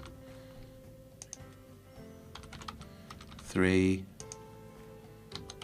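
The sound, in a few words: typing on a computer keyboard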